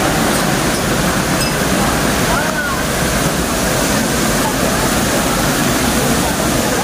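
Cambugahay Falls waterfall on Siquijor, a steady, loud, broadband rush of falling water heard up close, constant throughout without breaks.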